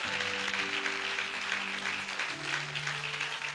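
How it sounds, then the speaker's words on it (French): A church congregation at a Sunday service applauds and cheers together, a dense, steady wash of clapping with sustained voices and musical tones ringing beneath it, loud and continuous throughout. "Acclame Dieu avec moi s'il te plaît."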